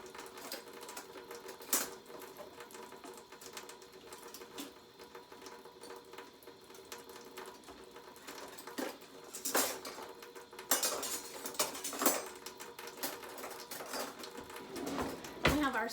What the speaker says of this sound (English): We are going to start stirring.